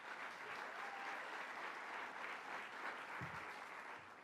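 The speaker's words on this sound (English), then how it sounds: "Let's give her a round of applause." Steady applause from an audience at a New York governor's funding announcement event for mental health care, continuous clapping at an even level with a couple of low thumps near the end, fading slightly at the close.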